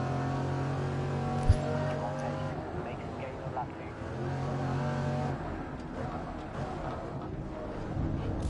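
Chevrolet Camaro engine in a racing video game, a steady sustained drone with revving swells and one sharp knock early on, heard under continuous speech throughout.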